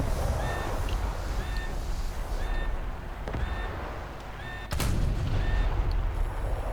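Naval artillery from War Thunder's 2.5 dev server, 14-inch guns among them: dull booms rumble over a steady low roar, with one sharp heavy blast standing out near the end.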